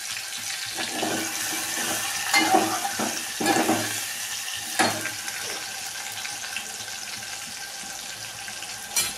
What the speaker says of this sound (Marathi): मीठ, हळद, थोडं भाजून घ्यायचं